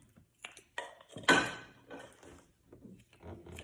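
A metal spoon clatters and knocks inside a jar of Ryze coffee, with one sharp clinking burst standing out among quieter handling sounds.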